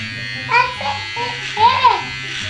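An electric razor shaves a man's beard and mustache at home, its close buzz rising and falling in short bursts as children and an adult talk over it.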